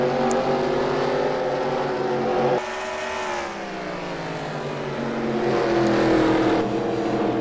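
Race cars in a video game race roar continuously on the track, engine pitch climbing and falling as cars shift and pass close by, with a brief dip in loudness partway through.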